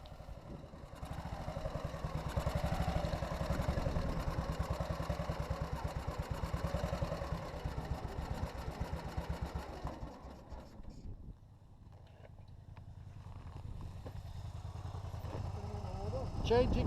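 A Suzuki motorcycle riding alongside a Panther motorcycle and sidecar during a trial, a steady loud engine drone with wind buffeting that drops away toward the end, with a voice talking over it.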